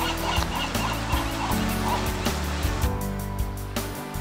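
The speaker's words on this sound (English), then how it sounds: "Hear the cries of shorebirds." Shorebirds crying at seashore tide pools, with repeated sharp calls rising over a loud, steady wash of background noise.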